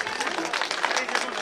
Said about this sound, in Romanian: Merită aplauze.